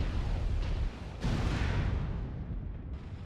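An AC-20 autocannon shot strikes a mech's head in the video game MechWarrior: a heavy, rumbling blast with a booming impact burst that decays into a long, dense roar.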